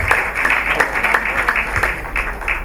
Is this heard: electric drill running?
no